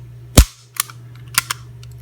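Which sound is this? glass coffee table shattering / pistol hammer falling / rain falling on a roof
pistol hammer falling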